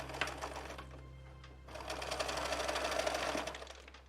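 Sewing machine stitching a seam on a fabric face mask, close and steady, starting lighter then running faster with a dense rapid whir of needle strokes.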